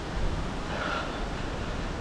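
Strong gusting wind buffets the microphone during a road bike ride, a steady loud broadband roar with no pauses and no talk over it.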